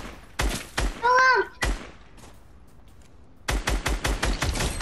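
Bursts of video-game gunfire: rapid clusters of loud, sharp shots at the start and a long run of repeated shots near the end, separated by a quieter stretch with a brief vocal sound.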